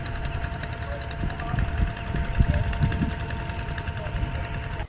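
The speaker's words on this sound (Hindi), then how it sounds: "डीजल इंजन लगाकर निकाला जा रहा है।" Diesel engine pump pulling leftover water from a river, a steady close chugging drone with rapid knocking pulses running continuously throughout, with no voices.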